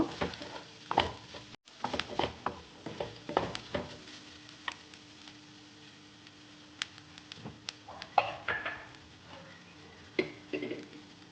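A spatula clicks and scrapes in a pan as chicken is stirred with turmeric for pepper chicken. The taps are irregular and fairly quiet, with a faint low hum underneath.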